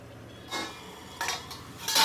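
A metal lid clatters onto a pan of potato and spinach on a medium gas flame, three short clanks over a faint background hum, the last one loudest.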